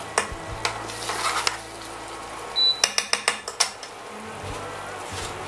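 A spoon clinks against a bowl while stirring a mushroom stuffing with egg and cream: soft scraping at first, then a quick run of six or seven sharp taps close up, and no talking.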